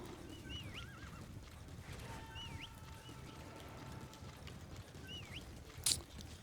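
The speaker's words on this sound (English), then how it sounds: "And then call your horse." A horse in Metal Gear Solid V arrives after being called, whinnying several times in short rising calls over a soft, rhythmic clip-clop of hooves, with a sharp louder burst near the end, all fairly quiet.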